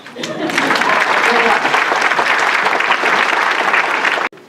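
Audience applause at a fan convention Q&A session, a dense sustained round of clapping that fills the room for about four seconds before cutting off abruptly.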